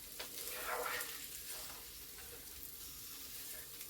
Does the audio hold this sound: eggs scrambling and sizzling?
yes